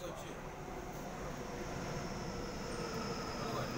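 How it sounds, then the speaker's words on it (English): A Waratah electric passenger train passes on the outer track at Ashfield in Sydney, a steady continuous rumble and rolling hum of wheels held at even loudness throughout, with a faint voice in the background. "Waratah passing on the outer track."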